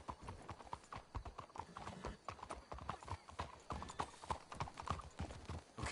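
Rapid clip-clop of several horses' hooves in Red Dead Redemption 2, steady and close, with a brief whinny amid the trotting.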